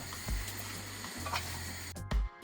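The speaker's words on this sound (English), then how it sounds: "we are going to put a 1/4 cup of the coconut milk to boil along with the banana" Quarter cup of coconut milk boiling with banana pieces in a pot, giving a steady low bubbling hiss over a faint hum, with a couple of soft bumps and no voices.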